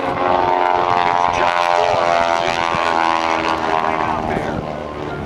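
A PT-17 biplane, also called the Navy M2S or Cadet, drones loudly and steadily overhead while performing aerobatics at a Naval air station airshow, its propeller engine sustained throughout and easing slightly at the end.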